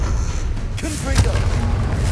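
A Confringo blasting spell explodes in the wizarding game Hogwarts Legacy as one dull boom over constant game noise, with a voice speaking briefly nearby.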